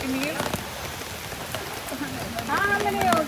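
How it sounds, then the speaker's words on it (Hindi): Outdoors in Sri Lanka, rain patters steadily in the background while people talk over it, with voices rising louder toward the end. "हर 2 मिनट में बारिश आ रही है।"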